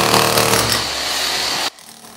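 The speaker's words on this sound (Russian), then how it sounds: "Сегодня на автотранспортном 2 гремят отбойные молотки" Jackhammers pound during renovation work at a bus depot, a loud, dense, continuous rattling clatter that cuts off abruptly near the end, leaving quiet background.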